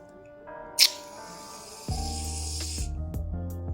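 Shaving foam sprayed from a can into a shampoo-based bubbly slime mixture made with Fevigum, a short pressurized hiss followed by a louder, steady squishy spray and foam sound up close.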